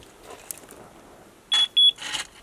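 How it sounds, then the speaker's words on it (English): A measuring stick beeps as it touches gravel at the bottom of a post hole, giving two sharp, close electronic beeps in quick succession, followed by a short scrape. "stick was touching gravel at the bottom of the hole right when it started beeping"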